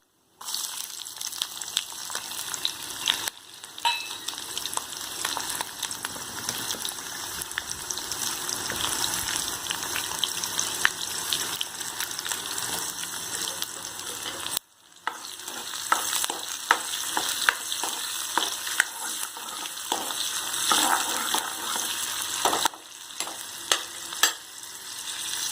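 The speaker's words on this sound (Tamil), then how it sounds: "கடுகு நல்லா பொரிஞ்சிருச்சு. இந்த ஸ்டேஜில் வந்து வெங்காயத்தை எடுத்து போட்டுக்கலாம்." Onions fry in oil with spluttered mustard seeds for garlic rice, a dense close sizzle and crackle running steadily, with brief gaps and bursts of louder popping as the pan is stirred.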